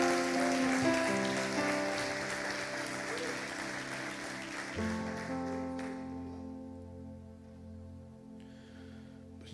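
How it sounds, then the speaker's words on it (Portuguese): Church congregation in São Paulo giving a sustained round of applause, a dense wash of many hands clapping that slowly tapers off, with music playing and a voice heard underneath. "Você pode dar uma salva de palmas a Deus"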